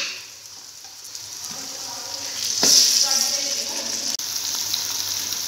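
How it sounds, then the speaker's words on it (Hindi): Ginger garlic paste fries with onions in a pan, a continuous close sizzle that swells midway, with a brief stir and no clear talk. "पा के दो मिनट वास्ते असी चंगी तरह भुना दे"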